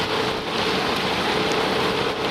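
Steady rain pouring at an LRT railway construction site, a dense continuous hiss, loud and close, with no talk.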